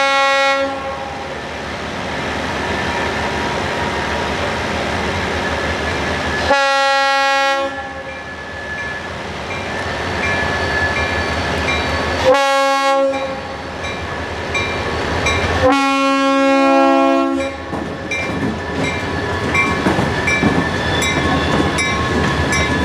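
A Florida East Coast Railway switcher locomotive, number 960, runs through residential Pompano Beach, sounding three long, loud horn blasts over the rumble and clatter of the passing train.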